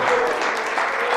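Steady, loud applause fills a church as the congregation claps in unison, a thick continuous patter with a voice faintly mixed in underneath.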